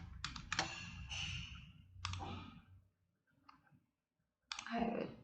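Keyboard typing on a computer during a Python programming lesson, with a burst of clicky keystrokes, a pause, then another quick flurry of key presses ending in a firm press of the enter key.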